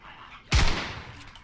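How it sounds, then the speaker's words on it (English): A single sharp gunshot fired at a zombie in the video game Contagion cracks out loudly, with a short decaying tail after it over a quiet background. "I had to shoot that zombie."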